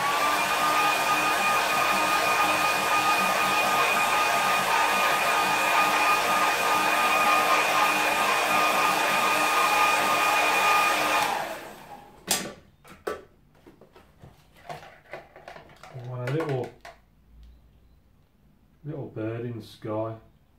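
A hair dryer blows steadily and close for about eleven seconds to dry a watercolour painting, then cuts off, followed by small handling clicks and someone speaking softly.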